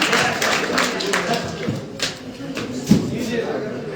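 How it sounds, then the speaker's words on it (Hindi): Seminar audience clapping in scattered, uneven bursts inside a hall, the claps sharp but thin, running under a continuous speaking voice that stays in front throughout. "मैं चाहूंगा कि आप लोग तालियां जरूर बजाते रहें"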